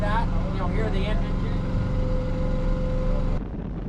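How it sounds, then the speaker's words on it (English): A boat engine runs with a steady mechanical drone near a remote fishing lodge homestead while people talk over it. The engine note drops away abruptly near the end. "Turn it like that, you'll hear the engine."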